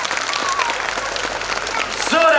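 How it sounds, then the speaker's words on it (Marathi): Audience clapping at an abacus academy award function, a dense patter of applause under a voice speaking, with whistles or cheers rising toward the end. "माझं भाषण आवडलं असेल तर जोरानं टाळ्या वाजवा"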